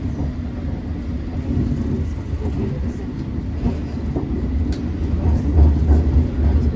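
A London Underground Tube train rumbles along between London Bridge and Paddington, a deep steady roar with rattling swells and a low surge toward the end, heard from inside the carriage.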